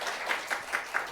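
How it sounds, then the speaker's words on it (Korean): Rhythmic clapping by a church congregation in a steady beat, about five evenly spaced claps in quick succession, moderately loud over a soft background. "우리 하나님 박수 올려드려"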